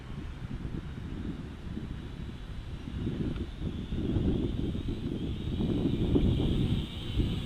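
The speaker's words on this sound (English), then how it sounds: "a little bit of wind picking up now." Wind blows outdoors as a steady low rumble buffeting the microphone, growing somewhat stronger toward the end.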